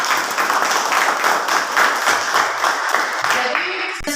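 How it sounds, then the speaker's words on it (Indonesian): Students in a high school civics classroom applaud a classmate, a short burst of brisk, roomy clapping that carries on steadily before cutting off abruptly near the end. "Tepuk tangan"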